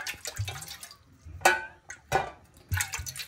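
Water is poured into a cooking pot while making veg chopsuey gravy, giving a few short, splashy bursts at close range with quiet gaps between them.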